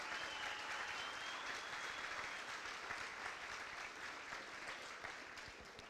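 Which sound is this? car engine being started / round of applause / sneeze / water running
round of applause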